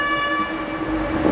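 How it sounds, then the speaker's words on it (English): A boat horn sounds on the Chicago River near 1960s apartment towers, a loud, sustained, steady blast that carries through the whole moment with no voices over it. "Boat's honking."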